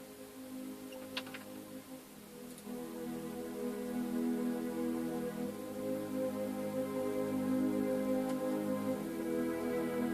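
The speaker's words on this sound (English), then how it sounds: "These are the strings when the piano plays." Layered Nexus orchestral strings sustaining soft chords beneath a piano part, quiet and smooth with a few faint ticks early on.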